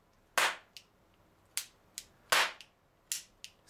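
A small metal Edison FBI toy cap revolver fires roll caps close by: two loud, sharp cracks and several softer snapping pops, spaced irregularly with quiet gaps between.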